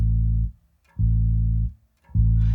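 A bass guitar with EQ and a UAD Voice of God bass enhancer plays three deep, full notes in a row, each held for about half a second with brief silences between, loud and up close.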